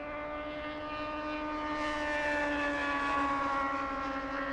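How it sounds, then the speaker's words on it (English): A Sun Country Boeing 737-800 airliner at LAX makes a loud, continuous jet engine roar with steady whining tones that builds slightly over a few seconds, with no talking. "We have Sun Country 8770 flying to Palm Springs. A 737-800."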